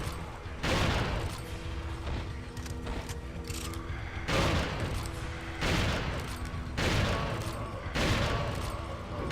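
Gunfire in the video game Resident Evil 4, with several loud bursts of shots separated by short gaps over a steady game background, close and punchy.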